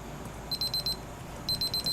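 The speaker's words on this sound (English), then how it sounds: "there's my timer again" A kitchen timer goes off while bundt cakes bake, giving two quick bursts of five or six shrill, evenly spaced beeps separated by a short pause, clear and fairly close.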